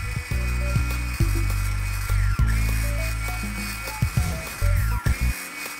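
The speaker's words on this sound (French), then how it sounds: "Avec notre fouet électrique, c'est parti." An electric whisk whirs loudly and continuously through egg whites with a pinch of salt for a tiramisu, its motor pitch dipping and rising in bursts as it beats them to stiff peaks.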